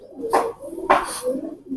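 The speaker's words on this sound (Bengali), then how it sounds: "এখানে একটা গলায় লাল কবুতর দেখছি" Pigeons at a pigeon sale give two short, soft coos close by, separated by a brief pause, over a quiet background.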